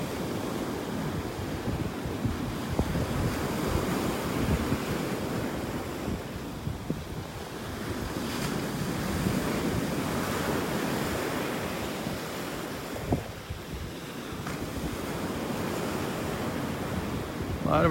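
Steady surf and gusting wind on a Gulf beach in North Naples, Florida, a continuous broad wash of breaking waves with wind buffeting the microphone throughout, no voices.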